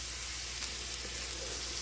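Home fries, potatoes with garlic, sizzling steadily in a pan, a continuous close hiss of frying with no voices.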